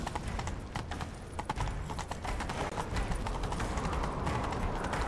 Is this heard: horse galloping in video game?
yes